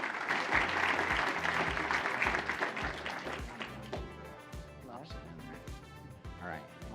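Applause from the audience at a general session of a 2024 symposium, loud and dense at first, then thinning into scattered claps, with a low rhythmic thumping underneath.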